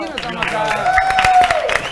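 A studio audience on a television talk show applauds, its quick claps ringing under a loud, sustained voice that carries over them throughout.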